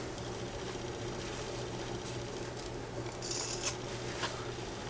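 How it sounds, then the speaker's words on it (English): Scissors trim thread and fabric on a handmade Christmas stocking, giving a couple of quiet, brief snips against a soft, steady background hiss. "I can just trim this away"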